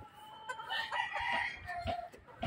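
A Raptor Sweater gamecock, a red-eyed broodcock with pencil feet, crows loudly and close by, its drawn-out call rising and breaking over about two seconds with a few clucks, no talk.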